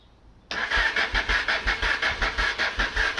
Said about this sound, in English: let's see if the bike will start